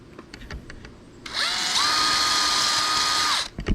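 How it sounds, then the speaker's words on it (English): A power drill spins up with a high whine as a wire brush grinds steadily against metal on a Nissan 300ZX engine for about two seconds, then stops. "take a wire brush on a drill and remove it"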